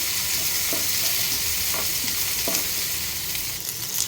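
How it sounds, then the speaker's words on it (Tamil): Onion, curry leaves and garlic frying in a pan for tomato chutney, a steady close broadband sizzle with a few soft stirring scrapes, no talking. "வெங்காயம், கருவேப்பிலை, பூண்டு இது போடலாம். நல்லா வணக்கிக்கலாம்."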